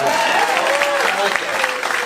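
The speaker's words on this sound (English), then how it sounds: "Round of applause for this man." A stand-up comedy audience applauds loudly and steadily, a dense wash of clapping with some whooping voices mixed in.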